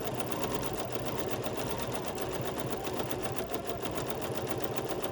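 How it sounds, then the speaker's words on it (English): A sewing machine stitches a quilt with small stitches, running as a fast, even, continuous mechanical chatter close by, with no voices. "you can see the machine is moving a little bit faster because it's making smaller stitches"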